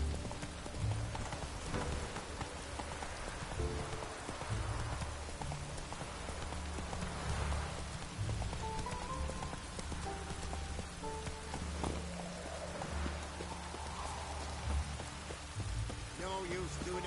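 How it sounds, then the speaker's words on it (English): Rain patters steadily on surfaces in The Witcher 3 while horse hooves clip-clop intermittently, with faint in-game voices and soft music underneath, all at a low level. "No use doing any work in this rain."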